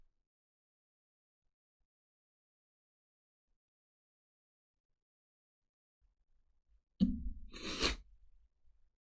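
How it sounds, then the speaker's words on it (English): A single sharp sneeze bursts out near the end after a long stretch of near silence, followed by faint rustling. "Oh, now my nose is starting to run after that sneeze."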